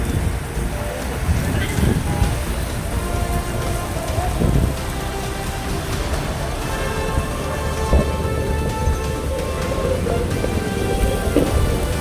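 Heavy monsoon rain pours steadily over Deesa taluka in Banaskantha district, a dense continuous hiss of drops on surfaces lasting the whole stretch, with occasional low rumbles underneath.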